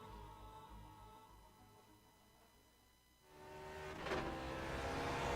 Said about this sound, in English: let's hop on board our GSRC Lotus 49 for a lap around Imola